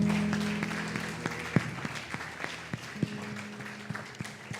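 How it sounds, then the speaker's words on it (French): A church congregation claps in praise during a French-language worship service, a dense wash of applause with a few sharper individual claps standing out, steady and moderately close, with no talking over it. "Est-ce qu'on peut encore acclamer le Seigneur?"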